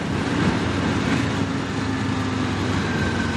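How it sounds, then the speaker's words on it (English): Kawasaki Ninja 500 motorcycle, a 2025 model on its first ride, engine braking with a steady low engine drone and broadband road and wind rush, continuous and close throughout. "Engine braking good for new engine."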